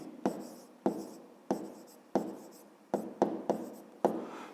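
Someone writes by hand during a maths lesson, pen strokes landing in quick scratchy bursts, about nine distinct sharp strokes in a loose, uneven rhythm, close and fairly quiet with no talk.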